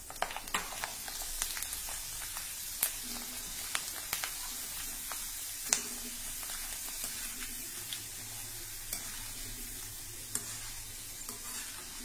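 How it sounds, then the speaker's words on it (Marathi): Grated potato frying in oil crackles softly and steadily, with scattered sharp pops and light stirring clicks throughout. "त्यानंतर बटाट्याचा कीस सुद्धा तळून घेऊ।"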